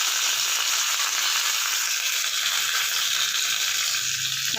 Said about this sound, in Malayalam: വറവിട്ട് കൊടുക്കുക. വെളിച്ചെണ്ണ ഒഴിച്ച് കടുക്, മുളക്,